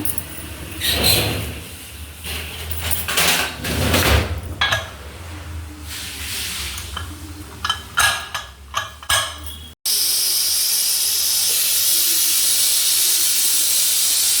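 Lid clatters and kitchen clanks come first, then a loud, continuous steam hiss bursts out from a pressure cooker cooking country chicken sambar and holds steady.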